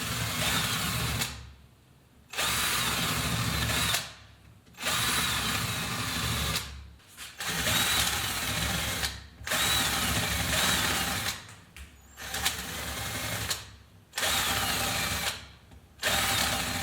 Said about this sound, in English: we want to clean up the edges by using another drill